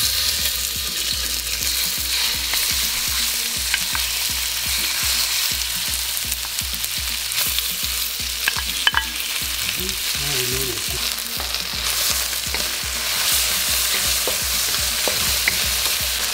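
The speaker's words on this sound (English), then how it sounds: "That's nice and hot, so in goes the chicken." Steady crackling sizzle of chicken frying in hot oil, continuous and close, with occasional louder pops and faint clinks over the constant hiss.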